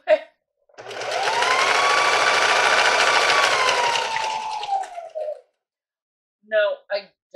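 Sewing machine stitching fabric that is turned right side out, a fairly loud whirring run of about four seconds that slows and fades out, with short bits of talk before and after.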